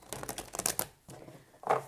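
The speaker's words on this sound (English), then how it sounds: "I already pre-shuffled the cards, but I'm just shuffling some more" Tarot cards are shuffled by hand in a quiet room, a quick run of soft papery riffles and slaps followed by a pause and one more brief flutter.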